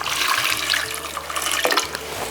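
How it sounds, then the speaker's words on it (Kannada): Water pours steadily into a pot holding cut raw plantain, a continuous splashing rush close by, heard alone. "ಇವಾಗ ನೀರು ಹಾಕ್ಬೇಕು ಇದಕ್ಕೆ"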